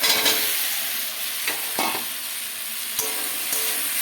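Potatoes and fried soybean chunks sautéing in a spiced masala with Kashmiri chilli powder, a loud continuous sizzle with a few spatula scrapes scattered through, close and unaccompanied by speech.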